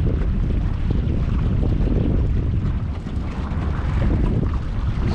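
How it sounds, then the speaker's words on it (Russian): A boat motor drones continuously on a river with a damaged shaft causing vibration, a dense rumbling roar mixed with heavy wind buffeting the microphone, with no voices. "Да, вибрация по мотору идет."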